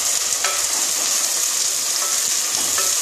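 Ginger-garlic paste frying steadily in a hot pan, a dense continuous sizzle with a couple of soft clicks of stirring, close and loud with no talking.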